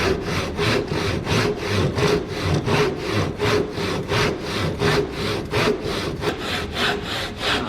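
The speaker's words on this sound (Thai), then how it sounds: "มาเลื่อยพร้อมกันนะครับ" A hand saw cuts through wood in steady back-and-forth strokes, each rasping pass evenly spaced and close, continuing throughout without talk.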